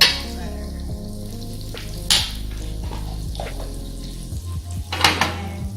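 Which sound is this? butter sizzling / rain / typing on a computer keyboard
butter sizzling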